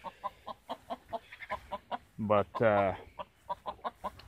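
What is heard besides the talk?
gamefowl chickens clucking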